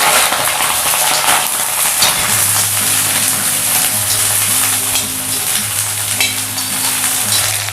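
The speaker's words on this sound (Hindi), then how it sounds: "सबसे पहले इसमें हम अपनी सब्जियों को डालेंगे और अच्छे से उन्हें थोड़ी देर सौटे कर लेंगे।" Cauliflower and potatoes sauté in hot oil for dry aloo gobi sabzi, a loud, steady sizzling hiss that runs unbroken throughout, with a low hum underneath.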